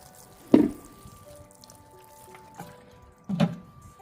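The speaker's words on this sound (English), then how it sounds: "So I'm going to water them thoroughly." Water poured over newly planted seeds in potting soil indoors lands in two short splashy bursts a few seconds apart, against a quiet background with a faint steady hum.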